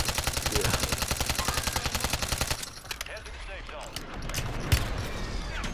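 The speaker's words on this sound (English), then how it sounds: "We get shot at from behind." Call of Duty gunfire: a fast automatic burst of loud, evenly spaced shots rattles for over two seconds, then gives way to scattered shots and battle noise with voices underneath.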